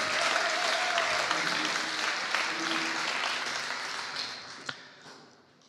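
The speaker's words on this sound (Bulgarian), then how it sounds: "така че аплодисменти още веднъж" Audience applause at a tech conference talk, a broad wash of clapping from a room full of people that gradually fades out, with a single sharp clap standing out near the end.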